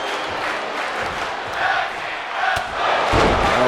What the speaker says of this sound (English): Crowd chanting tag team wrestling